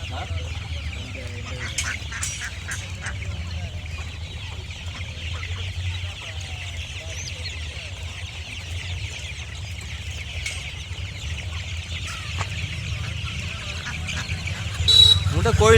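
Aseel Peruvidai country chickens at a poultry sale cluck and call against a busy, noisy background, with people talking nearby throughout.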